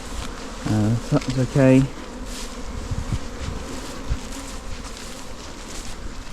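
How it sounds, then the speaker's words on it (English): Honey bees hum steadily around a hive during a swarm, a dense close buzz running through the whole stretch, with a person speaking briefly near the start. "Just seems like there's a whole load of bees."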